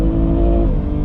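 720bhp 2020 Audi RS6 exhaust holding a loud, deep, steady rev at close range, with no voices over it.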